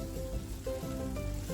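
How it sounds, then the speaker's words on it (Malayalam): Elephant yam pieces frying in coconut oil in a pan: a quiet, steady sizzle with faint tonal music in the background. "ഇനി നമുക്കൊരല്പം വെളിച്ചെണ്ണ ഒഴിച്ച് ചേന വറുത്തെടുക്കാം"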